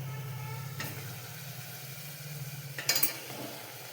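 Stuffed bitter gourds frying with tomatoes in a pan give a soft, steady sizzle, broken by a couple of brief clattering stirs near the end.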